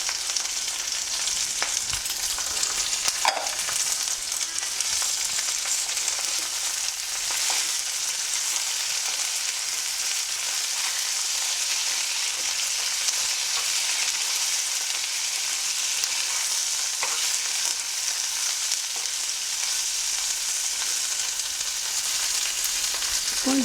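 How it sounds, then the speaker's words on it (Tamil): Curry leaves crackle and sizzle in hot oil for gongura chutney, a continuous close, even frying hiss with occasional sharper pops throughout. "இப்போ கருவேப்பிலை போடுறேன்"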